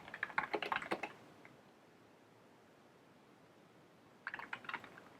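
Bursts of typing on a computer keyboard while writing code, a quick rattle of keystrokes at the start, a quiet pause, then another flurry of clicks near the end.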